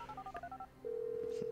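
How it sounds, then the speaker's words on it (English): In-game phone in GTA V dialing to set off an explosive, a quick series of short keypad tones followed by a steady sustained ringback tone, clear and close. "Bring up the phone, trigger an explosive."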